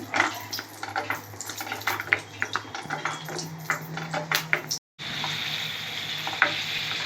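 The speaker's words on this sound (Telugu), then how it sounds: "కొంచెం ఆయిల్లో వేసి లైట్గా ఫ్రై చేసుకోవాలి ఎక్కువగా కలర్ మారకుండా లైట్గా చేసుకోవాలి" Amla, Indian gooseberries, fry lightly in oil with a continuous sizzle, broken by frequent scraping and clinking stirs, a brief dropout near the end, then the sizzle resumes.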